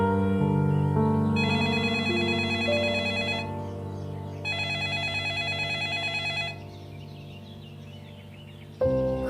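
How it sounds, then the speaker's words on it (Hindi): A telephone rings unanswered through several repeated bursts of bright, warbling ringtone, with a steady tonal melody underneath and a short pause between rings before it cuts off. "अभी अम्मी फोन उठा नहीं रही है, मैं थोड़ी देर में बात करा दूंगी।"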